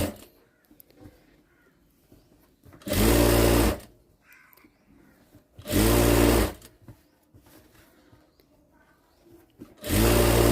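A sewing machine stitches the side slits of a Punjabi dress in three loud, whirring bursts of about a second each, separated by quiet pauses with faint fabric handling.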